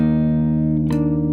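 A slow guitar passage from a song with a sustained chord, then a quick pick attack or chord change near the end, played close and clear with no talking.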